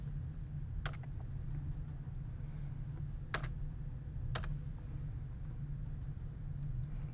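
A computer keyboard typing date limits into a research database search: a few isolated, distinct key clicks spaced over several seconds against a low steady hum, with no speech.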